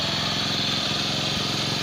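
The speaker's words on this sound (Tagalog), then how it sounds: "So ngayon pandarin na natin kung aandar siya." A Kawasaki Bajaj CT 100 motorcycle with a fault that makes it stall while riding and hard to restart, its single engine running in a steady, close, even chug with no voices.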